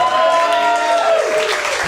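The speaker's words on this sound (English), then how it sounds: "You are just clapping for tolerance." A comedy club audience gives a burst of applause, dense and close, under a voice carrying on at the same time and thinning out toward the end.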